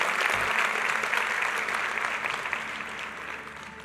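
Loud, sustained applause from a church congregation fills the space, steady and dense, slowly tapering slightly toward the end.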